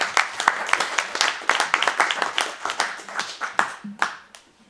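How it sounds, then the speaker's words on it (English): A small audience at a routing class claps for a presenter, sharp distinct hand claps in an uneven, fairly sparse rhythm, close and clear, tapering off near the end. "Give him a big round of applause, guys"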